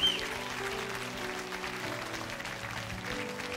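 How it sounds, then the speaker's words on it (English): Congregation at a church service clapping together, a soft, continuous wash of applause heard at a distance and fairly faint. "Give them a great big clap offering"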